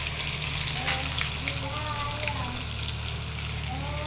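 Spices sizzle and crackle steadily in oil in a pan, a continuous frying hiss with faint tonal squeaks, no voices present.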